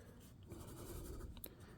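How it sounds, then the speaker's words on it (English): Pencil tip scratching fine details on paper, a soft continuous scraping with small quick strokes, close and quiet with no talking. "when you're drawing with the tip of the pencil, you're going to be doing really fine details"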